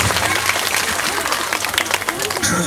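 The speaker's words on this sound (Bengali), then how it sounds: "আপনারা সবাই মিলে একটু জোরে হাততালি দেবেন এই পত্রিকা উদ্বোধনের সাথে সাথে।" An audience at a school's annual cultural function claps loudly for a magazine inauguration, a dense burst of applause filling the whole moment.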